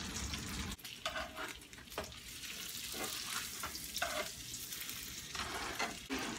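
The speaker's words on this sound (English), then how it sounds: "We'll just cook it in the rest of this butter" A cheesesteak roll fries in butter in a pan, giving a loud, steady close-up sizzle and crackle with short shifts as it is moved around.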